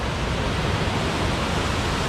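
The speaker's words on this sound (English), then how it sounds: "It's a little bit waterfall over here." A small waterfall spills over slick seaside rocks, a dense, continuous rushing of water that stays loud and close for a couple of seconds with no voices.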